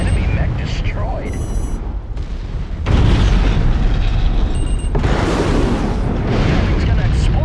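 A mech exploding in the MechWarrior 5 video game, with broad rumbling booms and dense blast noise that swell loudly and then carry on, along with a short burst of electronic interface tones.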